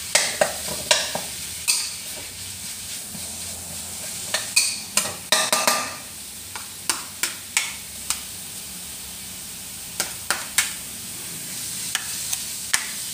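Minced pork stir-fried in a pan, a steady sizzle broken by repeated sharp scrapes and clacks of a spatula against the pan, up close and with no talking.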